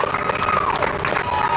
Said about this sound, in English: Small crowd, but big cheers.